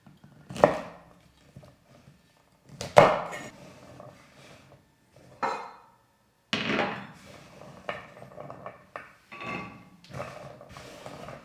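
A knife chopping string beans on a cutting board into two-inch pieces. A few sharp, separate chops ring out with gaps between them, then a looser run of softer cutting and board knocks follows, near and clear, with no talking.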